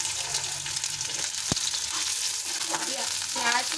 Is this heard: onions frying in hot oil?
yes